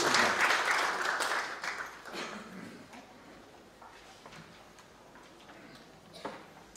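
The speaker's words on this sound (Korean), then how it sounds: "그리고 힘찬 박수 부탁드리고" Applause from a seminar audience in Icheon welcoming a speaker, a dense, loud patter of clapping for the first two seconds that thins and tapers into scattered claps and room murmur.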